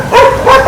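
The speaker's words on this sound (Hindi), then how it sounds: "कुत्ते भौंक पड़े" Dogs bark outside a Vishal Mega Mart store in Fazilka, two or three loud, close barks in quick succession with no talking over them.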